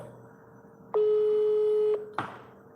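A phone call goes to a switched-off handset: one steady electronic tone sounds for about a second over quiet room hiss, followed by a short click.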